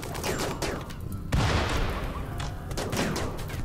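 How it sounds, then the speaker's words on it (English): Submachine gun fire in the Rimworld video game crackles in rapid bursts, with one louder hit partway through, over a busy game soundscape. "Got someone with an SMG attacking Modge over there."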